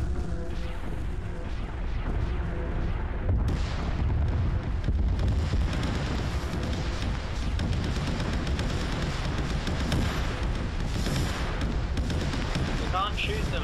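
Heavy guns fire without pause in a Warhammer 40k battleship multiplayer game, making a dense, rumbling wall of booming shots and explosions throughout, with voices talking over it.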